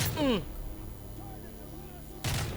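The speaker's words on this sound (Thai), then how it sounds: "ยิงมาจากไหนวะ" Gunfire in Call of Duty Modern Warfare 3 sounds as two sharp, booming shots at the start and end, loud and close, with a stretch of quieter game noise between them.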